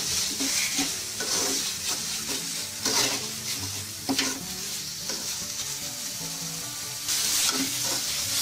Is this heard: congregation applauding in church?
no